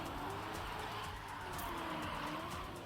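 Race car drifting in a racing video game, its engine droning steadily with broad tire-skid noise running through the whole stretch at a constant, fairly loud level.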